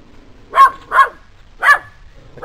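A dog barks outside a house, four loud close barks in an uneven rhythm with short pauses between them.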